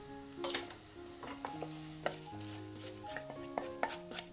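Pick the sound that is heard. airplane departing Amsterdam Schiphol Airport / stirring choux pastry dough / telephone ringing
stirring choux pastry dough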